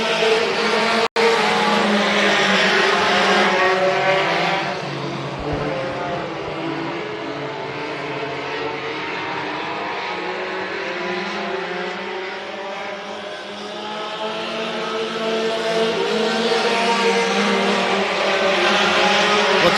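Several race cars circle a speedway track, engines droning steadily at mid distance with rising and falling pitch as the pack bunches up, a sharp click early on.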